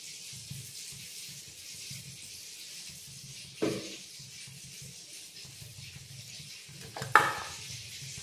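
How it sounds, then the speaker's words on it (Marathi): Two spoons of oil hit a heated pot while a Konkani prawn chutney is being made. A low, steady sizzle runs throughout, with two brief louder hissing bursts and no talking. "तर आपलं पातेलं तापलेलं आहे. 2 चमचे तेल घालायचे आतमध्ये."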